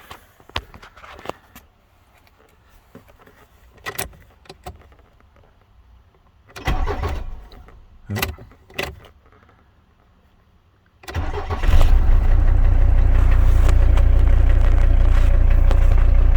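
A Mercedes W123 engine cranks in several short bursts that fail to catch, then starts and settles into a loud, steady running roar that lasts to the end.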